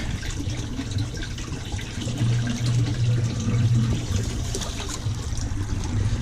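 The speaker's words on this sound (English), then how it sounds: "I'm just gonna put some water in there so that the soil is damp and ready to go. So let's do some pond water." Pond water is poured into a one-gallon pot of soil, a steady close trickle and splash that swells slightly midway and keeps running throughout.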